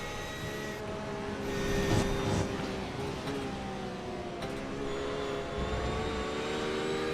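Heard on board a Porsche race car lapping Donington Park, the engine's whine holds steady, layered harmonics that rise and fall with throttle and gear changes, loud and constant throughout.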